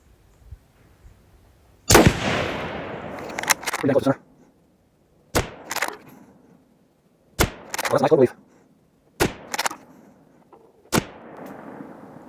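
A Steyr THB bolt-action rifle fires at a distant target outdoors, several sharp loud cracks with ringing tails, spaced a few seconds apart, with clacks of the bolt being worked between shots.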